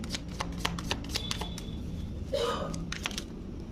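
Tarot cards are shuffled close up in a quick series of crisp, riffling slaps and flutters, with faint background noise.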